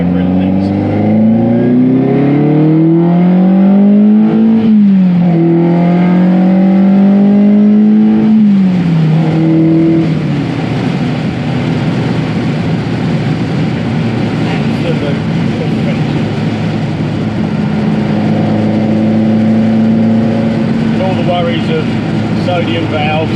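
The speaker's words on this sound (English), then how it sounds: "I'm not shy on revving this thing up a bit now." A Ferrari 308 sports car engine revs up and down repeatedly, its pitch climbing and dropping, then settles into a loud steady drone with further swells.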